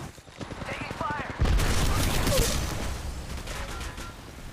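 Rapid gunfire in the mobile video game Apex Legends Mobile, a loud burst of shots kicking in after a softer stretch and trailing off, with a voice speaking over it.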